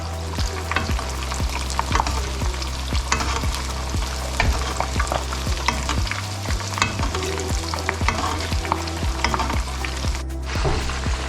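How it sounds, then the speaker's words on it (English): Red rock cod fries in a hot pan with continuous loud sizzling and crackling, while hot oil is repeatedly spooned over it in rhythmic scraping strokes, close up with no talk. "You can speed up the process by cooking, spooning it over."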